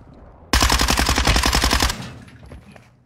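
Loud sustained burst of RPK light machine gun fire in a multiplayer shooter video game, a rapid stream of closely spaced shots lasting about a second and a half, then a fading tail and ambient game noise.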